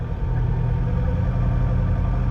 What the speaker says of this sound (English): Okay, so there's the revving.